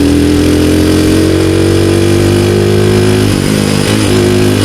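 A Rusi Gamma 200 motorcycle with a 30mm carburetor and aftermarket exhaust runs steadily and loud up close, its low engine tone holding even before a brief dip and recovery near the end.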